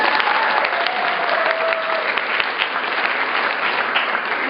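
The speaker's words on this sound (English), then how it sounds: "if you could please clap your hands" An audience claps hands in steady, dense applause that carries evenly from start to finish with no pause.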